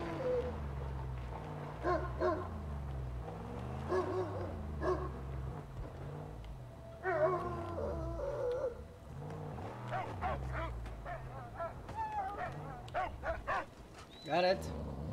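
A dog barking in the Mad Max video game, a series of loud barks and yelps scattered over engine rumble from a buggy, with no talking.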